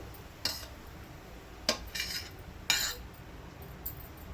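A spoon stirs grated carrot in ghee in a metal pan, giving four sharp clinks and scrapes against the pan at irregular intervals over a faint, quiet background.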